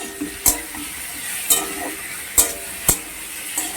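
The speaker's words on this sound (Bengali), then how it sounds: "আদাটা করে খুব ভালো করে ভেজে নেব" Ginger paste frying with potatoes in a pan for a catla fish curry makes a quiet background sizzle, punctuated by four or five sharp spatula strikes against the pan about a second apart.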